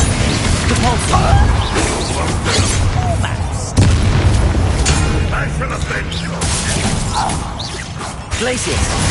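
In Hogwarts Legacy combat, a Depulso spell lands with a thudding impact amid a busy mix of whooshes, crashes and booms, with shouted voices over the clamor.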